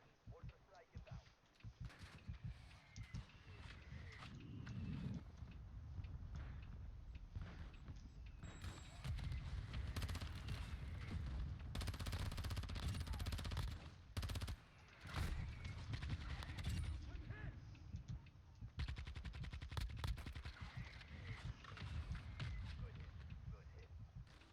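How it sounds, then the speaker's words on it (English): In a video game, a mortar strike lands amid dense, sustained gunfire: rapid bursts and heavy booms pile up almost continuously, with voices talking over the combat. "Mortar strike inbound."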